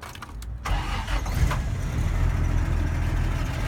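A 1978 Toyota Land Cruiser engine starting after months in storage: a brief cranking whir, then the engine catches and settles into a loud, steady, rumbling idle up close, with no talking.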